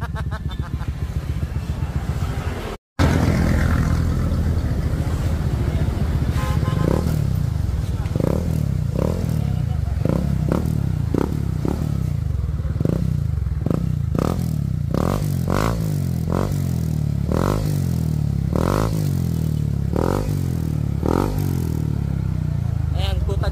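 A Honda PCX scooter fitted with a JBT exhaust revs with a loud, close engine drone and then fires off a rapid series of sharp backfire pops. People talk over it.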